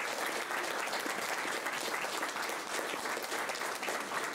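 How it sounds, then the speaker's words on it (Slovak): An audience at a book presentation claps steadily, dense and even applause that continues for several seconds without voices over it. "to si zaslúži jeden obrovský potlesk"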